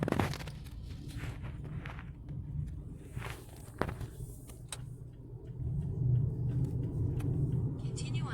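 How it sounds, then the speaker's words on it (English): Trucks rumble past on a road during a Malaysian road trip, a continuous traffic drone that swells toward the end, with a voice and some footstep-like knocks over it. "look how fast the trucks are going"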